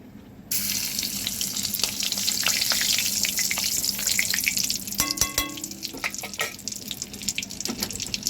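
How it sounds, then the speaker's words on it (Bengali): A spoonful of ghee added to hot oil left after frying eggs, bursting into a loud, steady sizzle that keeps crackling, with a few sharp clicks and spatters near the end. "এই তেলের মধ্যে আমি 1 চামচ ঘি দিয়ে দেব"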